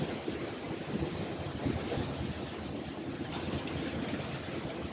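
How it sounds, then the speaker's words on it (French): Ocean waves wash steadily against the shore in a continuous broadband roar, with wind buffeting the microphone throughout and no speech heard. "le bruit des vagues couvre pas ma voix"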